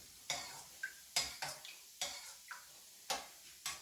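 Liquid coming to a boil in a pot while cooking Hutsul banosh, a cornmeal dish with brynza and cracklings: irregular sharp ticks and pops from the pot, roughly one to two per second, close and fairly quiet.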